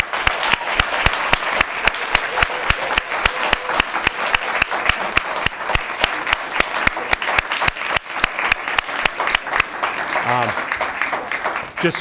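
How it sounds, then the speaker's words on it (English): A school audience at a Poetry Out Loud contest applauds the winners, giving sustained, dense clapping with sharp individual claps audible throughout at a fairly loud, steady level. "would you please give these winners a round of applause"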